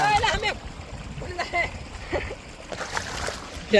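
Water splashes and sloshes as people bathe in a farm water tank, with voices calling out over the intermittent splashing nearby.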